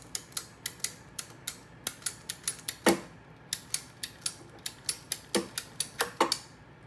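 A hand-held ratcheting cable cutter clicks steadily through a cable in a quick run of sharp, close ticks, with a couple of heavier snaps as it bites.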